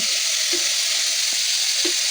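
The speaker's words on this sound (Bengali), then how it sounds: "তেল গরম হয়ে গেছে, এবার আমি আস্তে আস্তে সবজিগুলো ছেড়ে দেবো" Vegetables sizzle in hot oil in a pan for white sauce pasta, a constant bright crackling hiss with a few soft clinks of utensils, close up and without speech.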